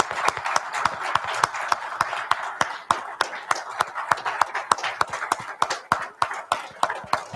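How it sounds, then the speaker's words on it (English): An audience at a team meeting claps steadily, a dense run of many hands close by with no voices over it, sustained throughout. "a round of applause for"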